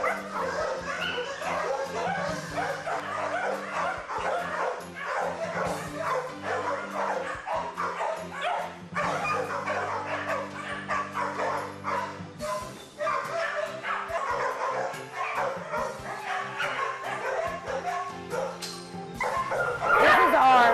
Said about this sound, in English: We have 29 dog kennels with lots of different mixed breed dogs.